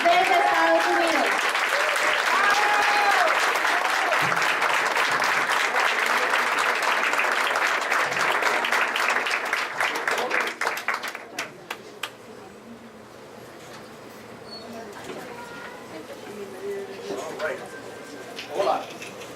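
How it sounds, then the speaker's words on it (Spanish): A live audience welcomes a speaker arriving from the United States with loud, sustained applause that fills the room, then thins into scattered claps and fades to quiet murmurs and faint voices near the end. "vamos a recibirlo con un fuerte aplauso"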